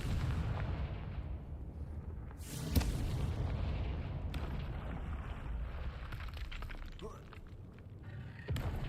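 In Hogwarts Legacy, a Confringo fire spell sets off a sharp, booming blast over a steady rumbling game soundscape, with further thumps and crackles trailing after it.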